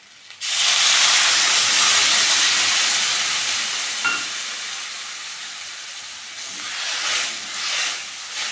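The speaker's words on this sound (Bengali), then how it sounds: "এবার জল দিয়ে দেবো।" Water poured into a hot pan of fish curry bursts into a loud, steady hiss of steam that holds for several seconds, slowly easing and then flaring again in a few surges near the end.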